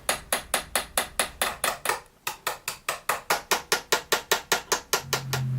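Rapid, evenly spaced hammer blows on metal pliers held in a vise, loud and close, about four per second, with one brief pause midway. No talking.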